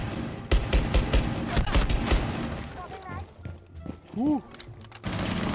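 Gunfire tearing through a wall in the game Rainbow Six Siege: rapid bursts of loud close shots in the first half, then a voice whoops and chatter and sliding electronic tones follow.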